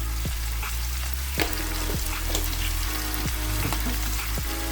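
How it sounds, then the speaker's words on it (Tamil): Green chillies and cumin sizzle in a frying pan for Sri Lankan devilled chicken, a steady loud fry broken by five or six sharp scrapes of a spoon stirring through the pan. "இதோட சேர்த்துட்டு நல்லா கிண்டி விட்டுடலாம்"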